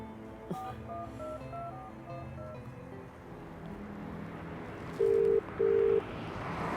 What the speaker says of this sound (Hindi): यार मैं कब से फ़ोन कर रहा हूँ, फ़ोन तो उठा ले